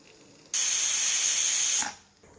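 A pressure cooker whistle lets out a loud, steady jet of hissing steam with a high piercing tone for over a second, then cuts off abruptly in a home kitchen during mutton sukka cooking.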